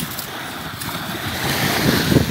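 Shallow sea waves wash over the sand flats at Maragogi beach in Brazil, a loud continuous roar of surf mixed with heavy wind buffeting the microphone, and it swells slightly toward the end.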